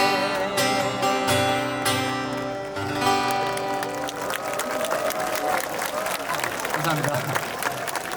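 Concert audience clapping along in rhythm during a live outdoor summer show of 90s Korean pop songs, steady applause mixed with music and crowd noise throughout.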